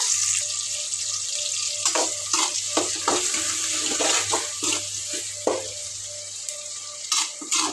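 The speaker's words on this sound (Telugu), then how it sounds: "పసుపు సాల్ట్ ఇవైతే ఒకసారి కలిపేస్తాను బాగా" Turmeric and salt being stirred into a ridge gourd curry in a pan, with a steady wet sizzle under intermittent scraping and clinking stirs, close and moderately loud.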